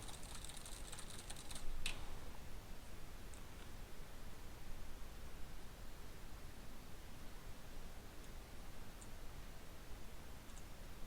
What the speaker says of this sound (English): So I'm just going to type some gibberish and you'll see what I mean.